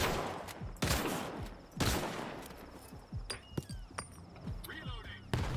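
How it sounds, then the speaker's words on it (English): Enemy gunfire in S.T.A.L.K.E.R. 2 cracks out in sharp, loud bursts spaced irregularly across a few seconds, with scattered smaller shots between and someone speaking over the fight. "now I'm getting shot through the corner of the building"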